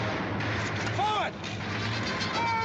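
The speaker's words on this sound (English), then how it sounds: "Keep firing!" Gunfire in a western film battle scene, a dense, continuous barrage rumbling loudly throughout amid battle noise, with a voice briefly audible.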